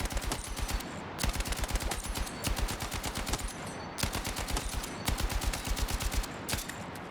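Automatic gunfire in Battlefield 6 comes as rapid, even bursts of sharp shots from a low-recoil gun with an optic, loud and close, with brief pauses between the strings of fire.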